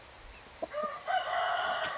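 A rooster crows once, loud and close, in a single rising-and-falling call against a background of repetitive chirping.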